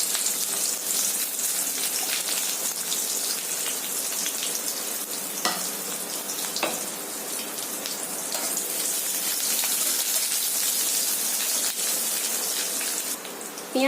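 Onions and a little garlic sizzle in hot oil in a pan, a steady crackling hiss throughout, with occasional stirring taps against the pan.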